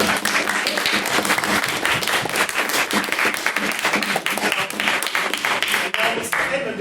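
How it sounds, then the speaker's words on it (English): A debate hall audience applauds loudly and steadily after a speaker finishes arguing a motion on Islam and Western liberalism, dense close clapping throughout with a voice briefly speaking over it. "Give her another applause."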